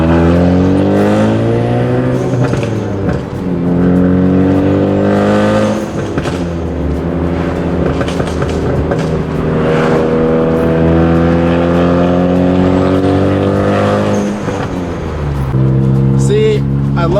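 Ford ST engine cruising with exhaust pops, a loud steady drone rising and falling in pitch through gear changes, with sharp crackles from the exhaust, heard close from inside the car.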